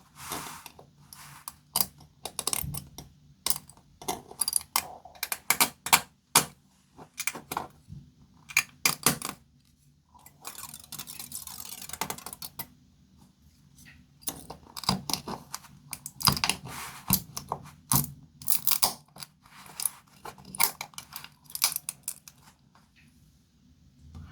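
Irregular bursts of sharp clicks, snaps and plastic crackling as supports are pried and broken off a 3D-printed gecko, with short pauses between clusters.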